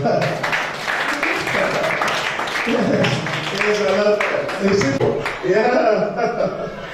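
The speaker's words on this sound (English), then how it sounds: "Let's clap for her." A school conference crowd claps and cheers with scattered chuckles, the applause steady and fairly loud, mixed with voices throughout.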